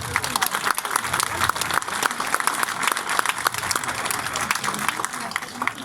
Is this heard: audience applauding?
yes